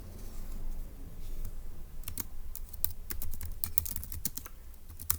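Brisk typing on a computer keyboard, a quick irregular run of close, crisp key clicks that picks up halfway through, over a faint low room hum.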